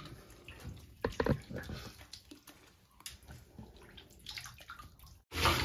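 Water splashes and runs as a Basenji dog is rinsed in a bath, close uneven splashing and pouring with bursts of spray, ending in a loud rush of running water.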